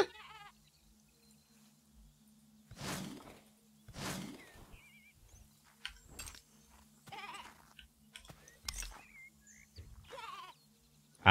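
A kangaroo-like sheep creature in the video game Boundless bleats several times in short nasal bursts spread across the moment, over a steady low hum and small game sounds.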